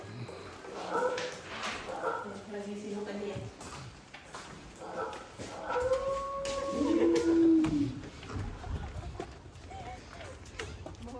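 Two wolves at Cleland Wildlife Park in Adelaide give drawn-out, rising and falling howls in the middle of the clip. Voices talk underneath, with background crowd noise throughout.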